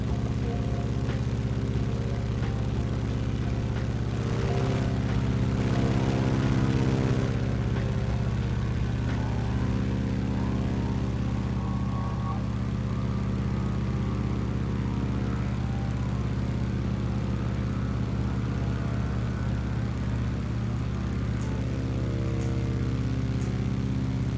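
A P-51D Mustang's piston engine in Microsoft Flight Simulator drones as a steady, loud, even hum with a deep low rumble, holding constant without speech throughout.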